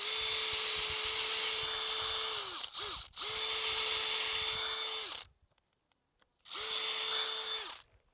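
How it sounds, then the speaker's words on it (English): A power drill pre-drilling a hole for a stand-off fence whirs at a steady pitch in two long runs, briefly stopping and restarting, then a pause of near silence before another burst. "So I'm going to go ahead and pre-drill this."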